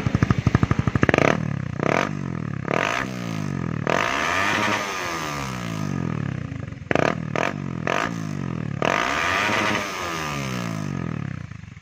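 A Raider 150 Fi motorcycle with a big-elbow exhaust pipe is revved hard in long, loud surges, the exhaust roaring up and falling back several times at close range.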